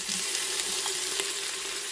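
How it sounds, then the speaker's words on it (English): Onion sautéing in oil for a quick beans dish, a continuous, fairly loud crackling hiss with no pauses over the short stretch. "I had my onion. I sauteed that for some minutes."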